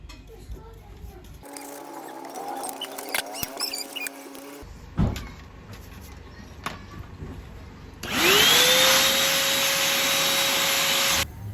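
Loud, steady whooshing blast of an air blower cleaning a desktop computer case starts partway through and holds for several seconds, following quieter brushing and rustling sounds.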